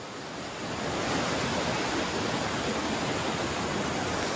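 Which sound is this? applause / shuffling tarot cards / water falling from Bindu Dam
water falling from Bindu Dam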